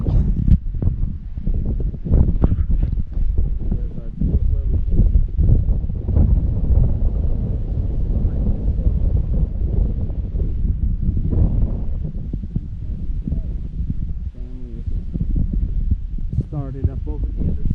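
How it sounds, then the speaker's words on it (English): Strong gale-force wind gusts across a high mountain trail on the Uinta Highline, buffeting the microphone with a steady low roar. Faint rustling and a few brief voices sound intermittently beneath it. "the wind is going to be horrific up here"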